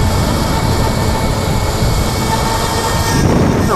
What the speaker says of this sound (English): The rattling is starting to bother me a little bit.